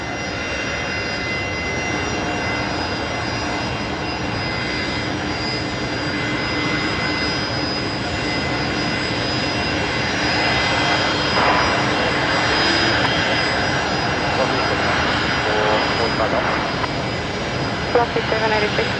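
A jet airliner that has just arrived from Alice Springs taxis past at Brisbane Airport, its engines holding a loud, steady roar that builds slightly as it draws nearer.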